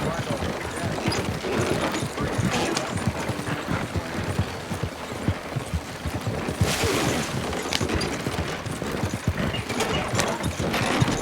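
A horse in Red Dead Redemption 2 clip-clops steadily through the game world, its hooves thudding repeatedly beneath a busy, continuous layer of ambient game noise.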